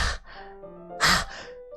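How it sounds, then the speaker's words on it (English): A sharp inhale sucked through the teeth, breathy and hissing, heard twice: a brief one at the start and a louder, harsher one about a second later, close and alone. "A sharp inhale, like someone is sucking the air through their teeth."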